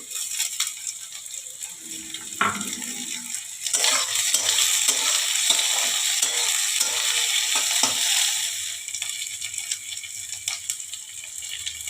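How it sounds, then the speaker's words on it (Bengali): Chopped green chilies fry in a pan for masoor dal bhuna, a bright continuous sizzle swelling loudly midway, with a few sharp clinks and spoon scrapes throughout. "এই যে লঙ্কা কুচি দিয়ে দিলাম"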